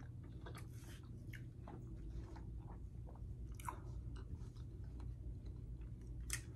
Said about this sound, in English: So, tahini and frozen watermelon.